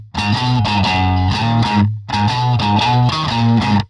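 Distorted electric guitar plays a chunky, loud power-chord riff from a song, strummed in rhythmic bursts with a brief gap midway, heard alone.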